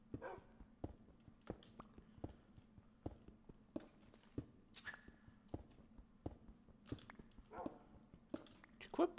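A dog in the RLCraft video game gives a series of short, sharp barks at an irregular rhythm. The barks are quiet and come over faint background noise.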